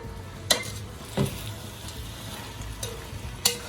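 Carrots being stirred into Jamaican curry goat frying in a pot, with a soft steady sizzle broken by a few scraping and clinking knocks of the spoon against the pan.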